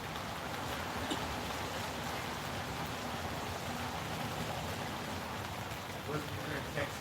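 Steady rain falls outdoors in a broad, unbroken hiss at an even level from start to finish, with no voices over it.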